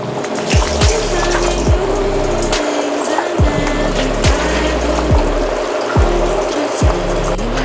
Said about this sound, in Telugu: ఈ వాటర్ అంతా ఉంపేయాలి